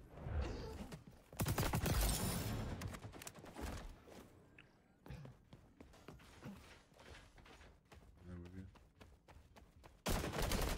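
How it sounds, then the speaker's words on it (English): Video game gunfire, with bursts of shots hitting a player during a match, loud rapid volleys at the start and end around sparser scattered shots and thuds, with voices in between. "I'm getting shot in the back!"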